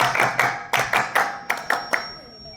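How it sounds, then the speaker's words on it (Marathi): Rhythmic group clapping at a school street play, about eight sharp synchronized claps in a steady pattern, fairly close and loud. "वाजवा टाळ्या, वाजवा टाळ्या"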